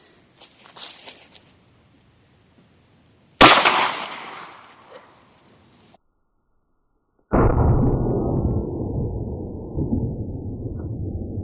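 A Ruger .380 LCP pistol fires into ballistic gel outdoors: a single sharp, loud report with a brief decaying tail, set among scattered handling noises and followed by a long, steady rushing sound.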